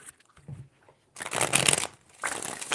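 Riffling shuffles of a tarot deck, two quick bursts of flapping card noise close by, with a brief soft thump before them.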